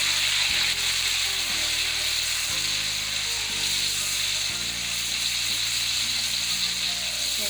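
Garlic and ginger paste frying in a pan for chicken keema, a steady close sizzle running through the whole stretch with low rhythmic scraping thumps underneath.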